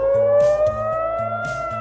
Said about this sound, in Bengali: তেল আভিভ, জেরুজালেম সহ ইসরায়েলের বড় শহরগুলোর অধিকাংশতেই সাইরেনের শব্দ শোনা গেছে।